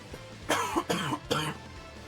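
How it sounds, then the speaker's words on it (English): Three quick, harsh coughs in a row, close and fairly loud, with a faint throat sound just before them. "I'm gonna cough again."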